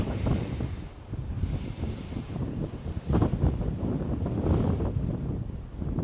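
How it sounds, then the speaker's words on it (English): Strong wind buffeting the microphone in loud, rumbling gusts that rise and fall continuously, with no talking. "It's so windy."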